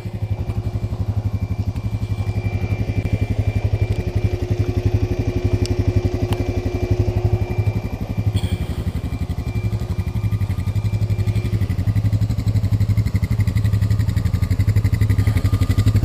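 A 2019 Yamaha Kodiak 700 ATV in four-wheel drive runs close by on a technical trail at Durhamtown ATV Park, its engine a loud, steady, low throbbing rumble with occasional clatter, continuous throughout.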